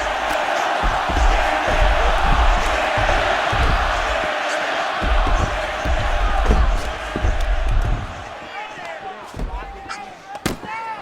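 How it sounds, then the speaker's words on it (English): An arena crowd in the EA Sports UFC 6 video game roars steadily through a mixed martial arts bout, a broad, loud cheering bed with sharp thuds and bangs scattered over it. "The crowd's going crazy because they appreciate high-level mixed martial arts"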